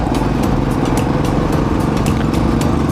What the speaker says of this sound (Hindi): इससे माइक में बहुत ज़्यादा शोर आएगा बाइक का,